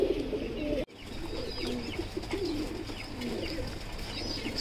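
Pigeons cooing in a loft, a run of soft, low rolling coos repeating close by, with a brief thud near the start and faint chirps behind.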